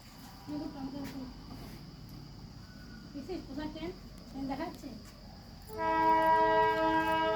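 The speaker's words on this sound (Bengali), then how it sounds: "এই যে ট্রেনের হর্ন পাওয়া যাচ্ছে।" The Darjeeling toy train arrives at Rongtong station, and near the end its horn sounds in a loud sustained blast with strong harmonic tones. Before the horn comes a quieter stretch of rumble and intermittent tonal squeals, and no one speaks.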